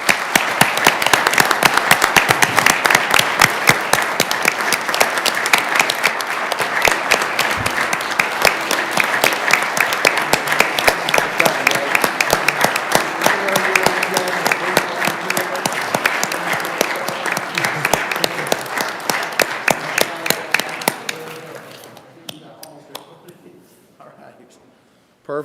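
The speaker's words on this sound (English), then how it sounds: "Let's give them a big round of applause." Sustained audience applause fills a city council meeting chamber, loud and dense clapping from a crowd that holds steady for about twenty seconds before tapering off to scattered claps and quiet.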